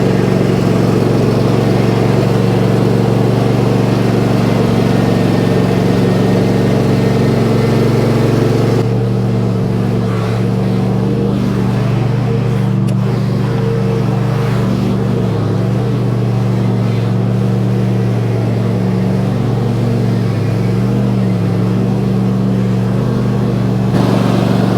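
A tractor engine runs continuously and loud nearby, a steady low rumble that shifts slightly in tone partway through.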